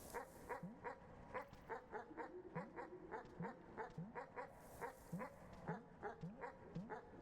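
Cartoonish dog barks from the video game Animal Well, a steady run of short, evenly spaced yips repeating throughout over a faint game backdrop.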